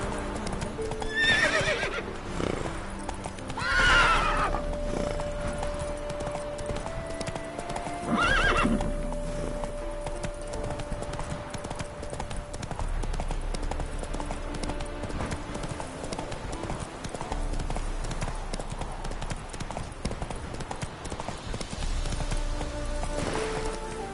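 Roach the horse galloping in The Witcher 3, with steady hooves clip-clopping up close throughout, loud whinnies and neighs near the start and middle, and a faint musical tone underneath.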